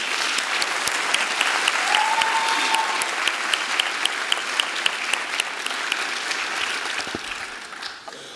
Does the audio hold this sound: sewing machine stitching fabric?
no